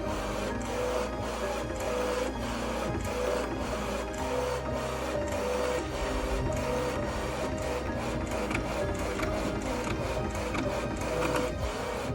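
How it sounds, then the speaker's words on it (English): A Canon Pixma Pro 200 inkjet printer printing poetry pages runs loud and close, with a rhythmic mechanical whir and repeated clicking carriage passes continuing steadily without speech. "And yeah, the printer is pretty loud."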